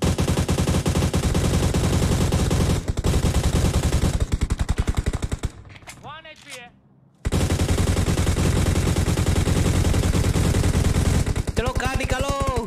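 Rapid automatic gunfire from the mobile battle-royale game PUBG Mobile, loud continuous bursts that stop briefly for a quiet gap, then resume, with a few short in-game sounds between volleys.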